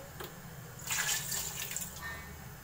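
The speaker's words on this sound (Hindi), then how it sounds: "थोड़ा सा और पानी डाल के" Water poured into a pressure cooker while cooking shaljam gosht (turnip and mutton), a short splashing pour of about a second over a steady low kitchen hum.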